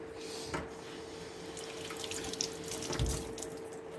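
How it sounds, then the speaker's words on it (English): Hands are washed under a running tap, giving a steady close hiss of water into a sink, with soft splashes and shifts in the flow as the hands move under the stream. "I need to wash my hands."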